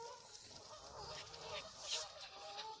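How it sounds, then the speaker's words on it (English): Geese on a lake in a park give a scattered series of faint, distant honks over soft outdoor background noise. "Look at all the geese. It's so noisy as heck."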